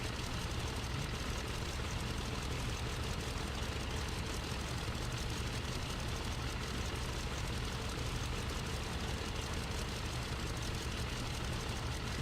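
A Bristol Bulldog vintage propeller biplane taking off in Flight Simulator X, its engine droning as a steady, dense, unbroken roar throughout.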